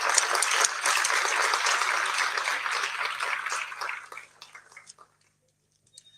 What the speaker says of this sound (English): please send another round of applause to the team